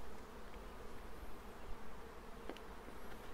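Honeybees buzzing around an open nucleus colony hive as brood frames are moved, a steady close hum of many wings with a few faint clicks, no voices.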